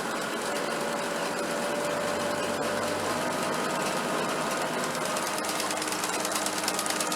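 A converted sickle mower runs steadily at about 1,500 rpm, giving a continuous, loud mechanical drone with a fast, even chatter throughout and no talking.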